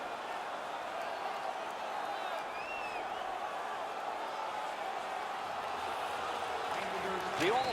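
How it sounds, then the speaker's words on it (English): A roaring home crowd in the NHL 19 hockey video game fills the arena with a steady, dense wash of cheering and noise throughout, with a brief louder burst near the end. "The home crowd is ecstatic. They're making all kinds of noise."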